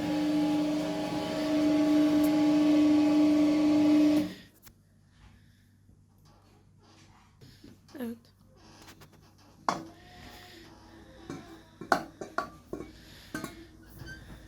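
A kneading machine starts up mixing a meatball mixture with eight cracked eggs, a steady loud mechanical hum for about four seconds, then it stops and quieter clinks and knocks follow.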